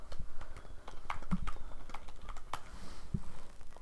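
Fingers type on a computer keyboard, a steady patter of soft, close key taps with a few sharper clicks, fairly quiet and with no speech.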